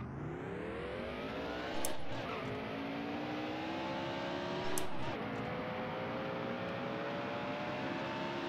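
Race car engine in the racing video game Dirt to Daytona, a steady high whining drone that rises slowly in pitch as it accelerates, with two brief gear-shift bumps, moderately quiet and alone.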